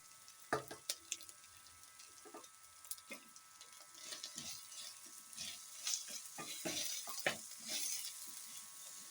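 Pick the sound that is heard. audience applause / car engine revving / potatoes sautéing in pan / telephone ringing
potatoes sautéing in pan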